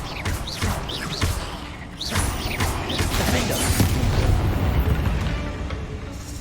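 Confringo spell blasts in Hogwarts Legacy, several loud booming explosions with whooshing bursts and crashing debris in close succession, rumbling on for several seconds.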